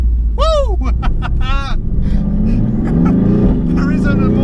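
A 2018 Mercedes-AMG GT R engine accelerates on the road, a low rumble climbing in pitch under excited talk from the occupants.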